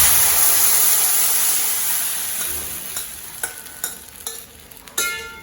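Red rice kolukattai dough stirred and frying in a pan, a steady loud sizzle that slowly eases, broken by scraping spoon strokes toward the end.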